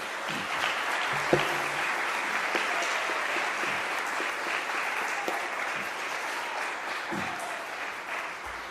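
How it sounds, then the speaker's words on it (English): At a university high school band spring concert, the crowd gives a moderate, even round of applause that holds at a steady level, somewhat distant, with a few individual claps popping out. "Give those folks a round of applause."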